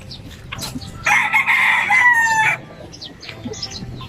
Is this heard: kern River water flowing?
no